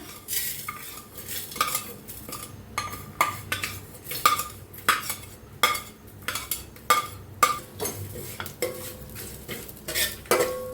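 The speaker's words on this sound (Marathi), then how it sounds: "तेलामध्ये सगळं खडे मसाले भाजून घ्यायचं" Whole spices roasting in a little oil in a pan, with repeated scraping and stirring clatter from a spoon against the pan, close and fairly loud, with no talk over it.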